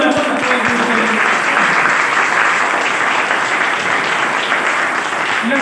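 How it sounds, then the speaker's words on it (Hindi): An audience bursts into sustained, dense applause, loud and close, holding steady for several seconds with no pause and a faint voice underneath at the start. "ताली लो, तालियां"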